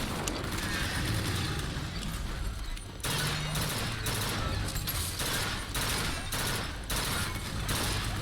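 Carbine gunfire in BioShock Infinite: Burial at Sea, sustained loud bursts of shots with brief pauses, dense and continuous over game noise and faint voices.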